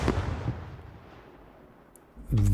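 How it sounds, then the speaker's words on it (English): Explosion sound effect with the bass-enhancing plugins bypassed: a loud initial blast that decays into a long, thinning rumble with a mid-heavy tone, cut off by a sudden loud low hum at the end. "Very mid-rangey explosion sound"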